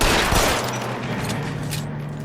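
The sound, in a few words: gunfire and headshots, from a video game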